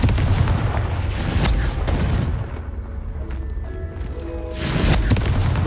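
Confringo fire spell explosions in Hogwarts Legacy, two heavy booming bursts near the start and end with a brief quieter stretch of crackling and chiming effects between them.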